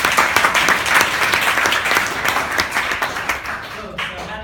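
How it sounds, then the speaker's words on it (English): A club-night audience applauding a woman called forward during a speech, steady full clapping from a crowd, loud and close, with some voices mixed in. "Let's give her a round of applause."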